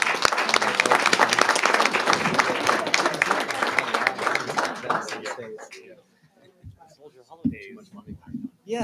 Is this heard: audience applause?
yes